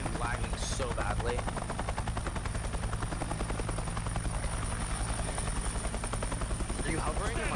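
Helicopter rotor thumping steadily in an online military video game, a close, continuous hovering drone with faint gunfire-like ticks, players occasionally talking over it.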